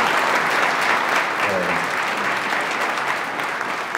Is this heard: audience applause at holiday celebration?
yes